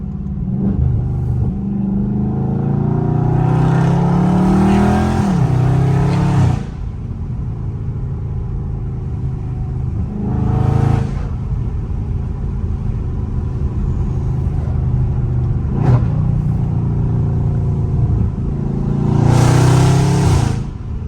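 A Dodge Charger Scat Pack engine drones loudly while driving in track mode, rising into several revving surges as it shifts through gears, with road rumble underneath.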